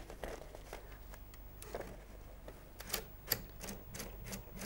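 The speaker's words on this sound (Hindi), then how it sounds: "ये परकन मशीन है जी इसमें हम इस तरह ये लीवर अपनी तरफ कर लेंगे" A Perkins braille writer is loaded with paper: a series of faint mechanical clicks, clacks and paper rustles at irregular intervals, a few sharper knocks toward the end, heard alone in a quiet room.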